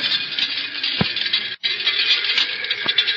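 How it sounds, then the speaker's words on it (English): Fine road dirt and dust particles pattering against a car body, a continuous gritty rattling hiss with a couple of sharper ticks and one brief gap, heard alone without speech. "That's the sound of tiny particles of road dirt and dust hitting the body of your car"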